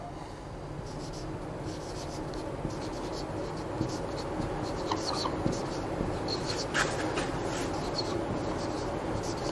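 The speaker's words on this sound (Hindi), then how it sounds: "अब मैं आपके सामने बेटा एक सेंटेंस लिखता हूं" Chalk or a marker scratches steadily across a classroom board as a teacher writes out a sentence, a soft continuous scratch over a constant low room hum.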